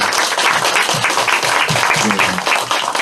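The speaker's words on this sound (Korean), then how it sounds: "다시 한번 큰 박수 부탁드립니다" Audience applause at a weekly academy lecture in Seoullung, a dense, steady wash of clapping from a crowd filling the whole stretch at full loudness, with some low voices mixed underneath.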